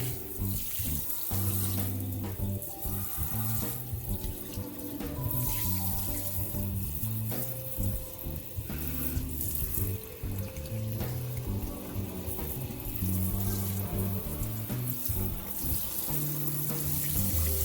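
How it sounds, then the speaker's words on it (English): Tap water runs steadily into a sink to rinse greens, a continuous splashing stream with occasional shifts as items move under it; no talking. "I'm running the water to rinse our greens"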